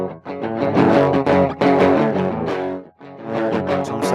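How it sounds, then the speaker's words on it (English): Heavy distortion plugin effect applied to a sustained synth or instrument passage, a dense, gritty buzzing tone that holds steady with brief dips, loud and alone. "but let's add some distortion"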